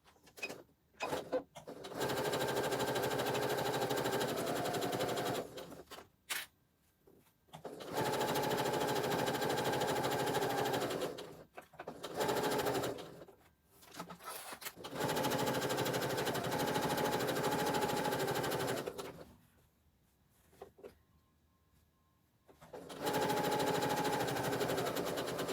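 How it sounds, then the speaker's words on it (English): A sewing machine stitches fabric scraps around a phone wristlet purse, running in several loud sustained bursts of steady whirring and clatter separated by short pauses, with no talking. "We're going to sew all the way around, all the way back to here."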